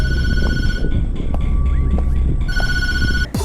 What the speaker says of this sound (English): you're greeted with the phone ringing